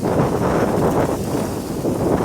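Strong wind buffets the microphone outdoors, producing a loud, rumbling, gusty roar that surges and dips unevenly.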